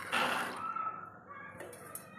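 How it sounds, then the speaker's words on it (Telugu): Water poured from a glass onto soaked dried peas in a pressure cooker pot, a close, splashy trickling burst that fades into quieter dripping, with no voices. "1 గ్లాస్ వాటర్ పోసుకుందాం."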